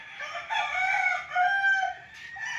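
Roosters at a Philippine game farm, near a small training cockpit, crow loudly in two long overlapping calls, one after another, with clucking in the gaps.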